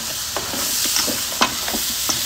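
Red meat browning in a pot for kabsa, with a steady close sizzle broken by several sharp spatters and scraping stirs.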